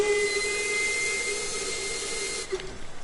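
A steam locomotive in the Train Sim World 5 simulator hisses loudly and continuously, with faint steady whistle tones running through the rush before it cuts off sharply near the end.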